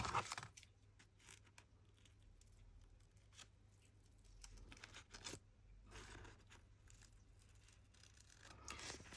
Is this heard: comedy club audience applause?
no